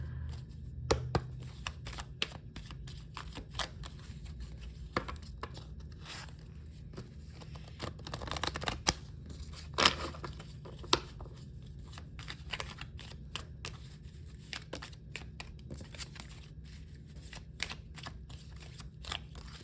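Tarot cards being shuffled and handled in quiet surroundings, giving soft, close, irregular snaps and flicks in scattered bursts over a low steady hum.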